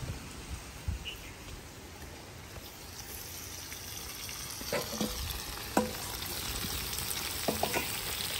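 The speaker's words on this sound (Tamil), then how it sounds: "தக்காளி பழத்தையும் சேர்த்து எல்லா வடிவா கிண்டி விடுவோம்." Onions and chopped tomatoes fry in a pot for biryani and are stirred, likely over a wood fire outdoors; a steady loud sizzle runs throughout with scraping stir strokes and clanks, and no talk.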